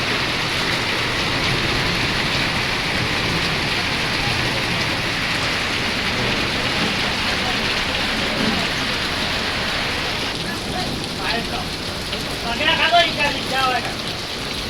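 Heavy monsoon rain pours steadily in Gujarat, a dense continuous hiss of drops drumming on surfaces throughout, with brief faint sounds near the end.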